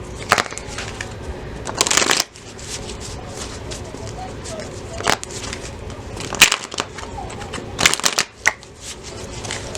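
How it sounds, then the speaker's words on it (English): Tarot cards shuffled repeatedly in bursts of riffling and crackling, close and fairly loud, with brief pauses between shuffles. "I'm getting a good shuffle in. Then I'm going to start cutting the cards"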